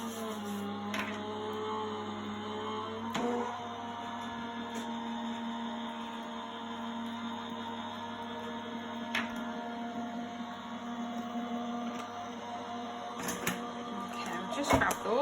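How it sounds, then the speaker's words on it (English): Die cutting machine running card through with clear cutting plates, a steady mechanical hum and whir with a few clicks and knocks, lasting throughout. "put my clear cutting plate on top and run those through my machine"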